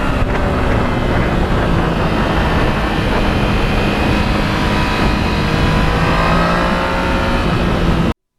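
Yamaha MT-09 motorcycle engine pulling hard under throttle on twisty roads, a loud, steady close-up drone with rising revs, wind noise mixed in, and no talking.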